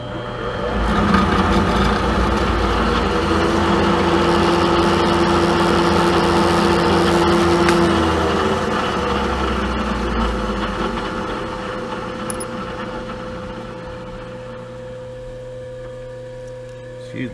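A milling machine runs steadily in a workshop, set up to center drill, drill and tap a hole, giving a continuous mechanical hum and whine that stays loud and close, then eases slightly toward the end.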